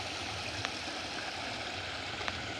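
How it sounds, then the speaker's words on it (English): River running through a garden, a steady broadband rush of flowing water heard continuously at moderate level, with a couple of faint brief ticks over it. "Having this river run through it is absolute gold."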